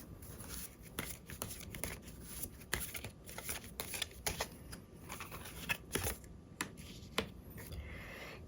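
Tarot cards are shuffled and drawn by hand, a close series of quick papery riffles, snaps and flicks in an irregular rhythm with no voice over them.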